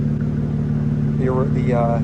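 A 2025 BMW M2 LCI idles with a steady, deep low rumble, close and loud throughout, while a person speaks over it partway through.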